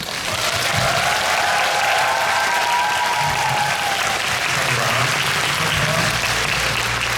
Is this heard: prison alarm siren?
no